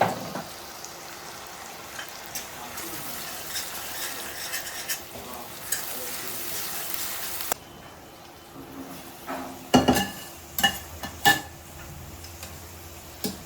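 Ginger garlic paste frying in a pan, giving a steady broadband sizzle with a brighter, denser stretch in the middle, then quieter frying broken by a few sharp spoon-on-pan clicks and scrapes near the end.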